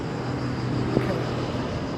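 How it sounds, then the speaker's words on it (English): A firefighting helicopter flies overhead during a raging wildfire near Athens, a steady loud rotor-and-engine drone filling the air throughout, with faint voices underneath. "Oh, there's another helicopter."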